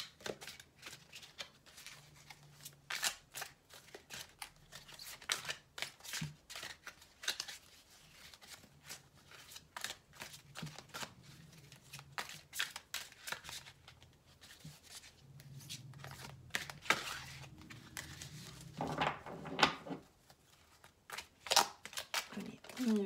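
Tarot cards are shuffled for a reading in repeated crisp riffling and slapping bursts over about twenty seconds, close up, with pauses and some quiet speech in between.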